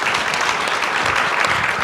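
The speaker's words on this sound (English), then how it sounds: "a round of applause for our speakers" An audience at a panel talk on cities and health gives its speakers a round of applause, a loud, dense, even clatter of many hands close by, with no voices over it.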